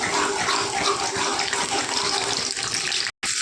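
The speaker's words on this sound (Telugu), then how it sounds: "పొట్టు మినపప్పు వేసుకుంటున్నానండి ముందు" Split black gram with husks sizzles in hot oil for a tempering while a cucumber and coriander chutney is being made, a loud, steady frying hiss that cuts out briefly near the end.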